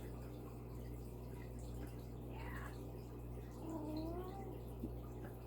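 Pet cat meowing faintly a couple of times for attention indoors, soft drawn-out calls over a steady low background hum.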